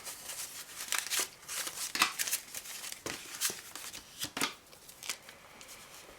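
Paper banknotes being counted and slipped into a cash envelope, a steady run of close, crisp rustles and flicks with no talking.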